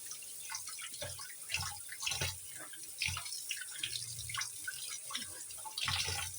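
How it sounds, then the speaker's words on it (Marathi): Cleaned bangda mackerel pieces being rinsed under running water in a sink, a soft continuous splashing stream with irregular drips and sloshes, fairly faint and close. "सर्व घाण काढून घ्यायची त्यामधली एकदम स्वच्छ असं धुवून घ्यायचं"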